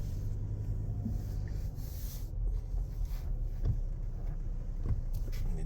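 A car creeping slowly along a snowy road, its engine a steady low rumble joined by soft crunching and a few faint scrapes and knocks as the tyres slip, with no talking.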